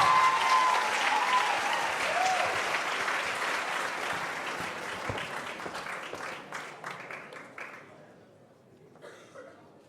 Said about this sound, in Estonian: Teeme ühe suure aplausi 10. Emmile, MC Hammer